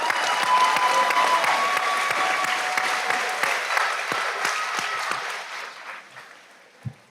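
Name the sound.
graduation crowd applause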